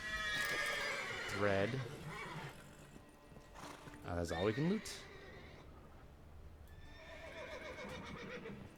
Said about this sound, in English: Horses are gradually starting to not panic so much.